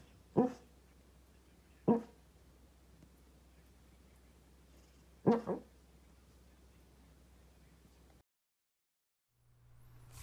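A sleeping dog gives three short, muffled barks spaced a few seconds apart, each a brief isolated burst over a quiet indoor hum, followed by near silence.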